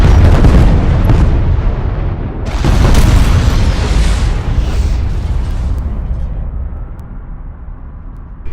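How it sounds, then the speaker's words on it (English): Charges detonated in the real-time strategy game Homeworld: Deserts of Kharak, giving a loud, sustained roar of explosions with a second big blast about halfway through, then rumbling debris slowly fading out. "Pull back to a safe distance and initiate detonation."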